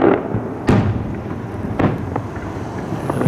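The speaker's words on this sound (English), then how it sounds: "let's go out and look at the fireworks" Fireworks burst from a late-December Holiday Bowl display, heard from indoors with booming thuds at intervals over a low rumble, some crackle between the bangs.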